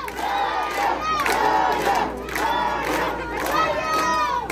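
A crowd at a campaign rally chants a candidate's name and cheers in rhythmic, repeated shouts, loud and continuous, with many voices overlapping in rising waves.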